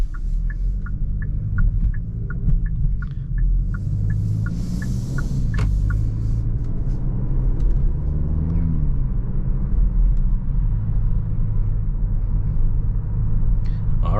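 A 2023 Hyundai Elantra N Line drives along with a steady low engine rumble and road hum from inside the cabin, continuous throughout, while a faint ticking indicator taps rhythmically early on.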